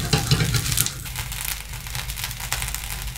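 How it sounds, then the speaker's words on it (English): A steak in a hot pan being flambéed with brandy gives a soft, continuous sizzle and crackle with a few louder pops early on, fairly quiet and free of speech. "Dip your pan and use it to light the flame."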